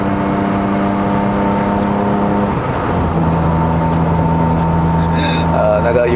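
A BMW E36 325i with a five-speed manual gearbox pulls hard on a test drive in Malaysia. Its engine drones steadily and loudly from the cabin, the pitch dropping briefly at a gear change midway before the engine climbs again.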